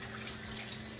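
Tap water runs steadily as a potato is washed with its skin left on while catfish and chips are prepared outdoors, a close, continuous hiss of flowing water with no talk.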